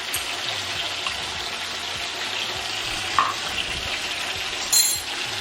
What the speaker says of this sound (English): we are just going to brown that. in the oil that is here